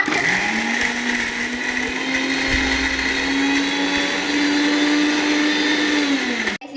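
Mixer grinder whirring steadily as it grinds ginger garlic paste for a Sunday biryani, a loud continuous motor drone that holds for about six seconds before cutting off abruptly.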